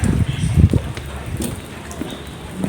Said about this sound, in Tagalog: tigil kasi umuulan